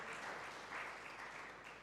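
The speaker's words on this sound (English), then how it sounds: "you need to clap for these guys thunderously" Audience applause at a forest sector investment dialogue and showcase, a faint, steady wash of clapping heard from a distance.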